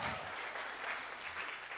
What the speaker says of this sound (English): we could take that applause and apply it retroactively